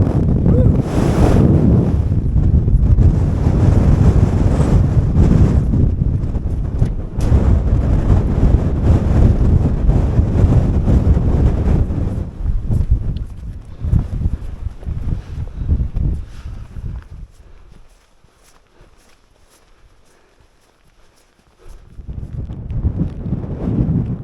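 Strong gusting wind buffets the microphone on an exposed Lake District fell near Hard Crags, a loud, continuous roar that surges and dips, dropping briefly to near quiet before rising again.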